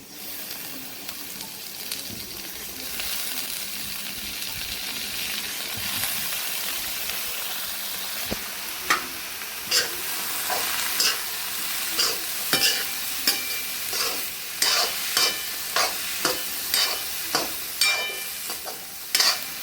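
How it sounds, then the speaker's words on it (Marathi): Onion, chili, crushed peanut powder and chopped potato fry in a pan, a steady sizzle under repeated sharp scraping and stirring strokes that grow regular and louder toward the end. "इथे ना कांदा भाजलेला आहे आपला, त्याच्यामध्ये मिरची आणि शेंगदाण्याचा कूट टाकून द्यायचा. आणि त्यानंतर चिरलेलं बटाटा टाकायचं."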